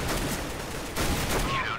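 Rapid gunfire from the video game Counter-Strike: Global Offensive, loud dense bursts running almost the whole time with a short dip in the middle.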